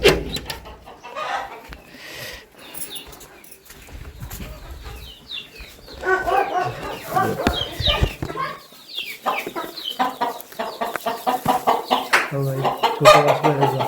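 Village yard hens cluck busily and close by, with a rooster among them, the fowl calls running continuously and growing denser toward the end.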